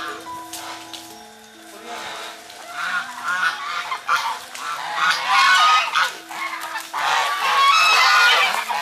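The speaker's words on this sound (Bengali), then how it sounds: "পাশে রয়েছে রাজহাঁস।" Several geese honk repeatedly on a small livestock farm kept alongside goats, with loud overlapping nasal calls growing denser toward the end and a person's voice heard faintly underneath.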